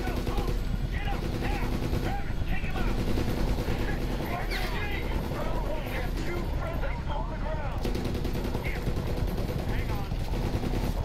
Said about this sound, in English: I don't see where we're taking pot shots from.